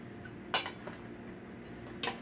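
A utensil stirs a pan of shrimp in orange adobo, giving two sharp metallic clinks against the pan about a second and a half apart over a steady low background hum.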